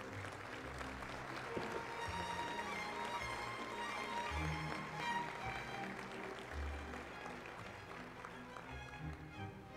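Applause at a formal ceremony for the presentation of the Guatemalan Attorney General's annual report, clapping heard fairly faintly beneath music or background sounds in a large hall, continuing steadily for about ten seconds.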